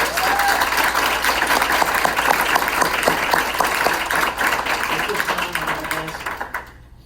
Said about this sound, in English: big round of applause for these young ladies